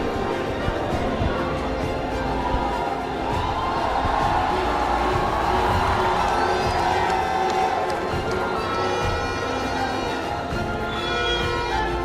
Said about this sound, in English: that roar that you're hearing from the crowd is the players finally making their way onto the pitch